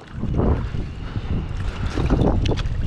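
Wind blowing hard over open water during night trout fishing from a small boat, a steady, gusting broadband roar buffeting the microphone throughout, with no voices.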